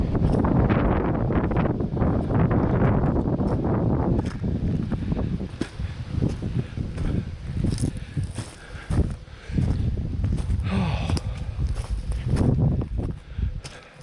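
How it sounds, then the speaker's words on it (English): Gusty wind buffets the microphone outdoors at the Steiglitz gold rush ghost town in Australia, with a heavy low rumble, strongest at the start, then easing into intermittent bursts of blustery noise. "Getting a bit windy."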